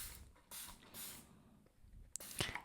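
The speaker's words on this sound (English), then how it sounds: "I'm going to take my spray bottle and put some water on the canvas." A hand spray bottle mists water onto a taped-off canvas in three quick hissing bursts, followed by some soft handling noises, fairly close and faint.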